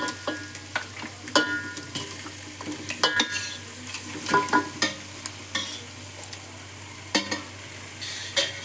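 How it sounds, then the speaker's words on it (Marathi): Marinated mutton frying in a hot pot and being stirred, with repeated sharp scraping and clinking of a spoon against the metal over a steady sizzle, near and fairly loud. "चांगलं असं हलवून घेऊ. चांगलं हलवायचं असं."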